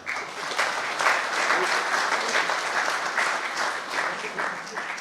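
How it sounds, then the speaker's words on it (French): Sustained audience applause at a parish patronal feast in honour of a guest, the director of the Sorbonne, with dense steady clapping filling the room at even loudness throughout. "Il faut applaudir pour lui."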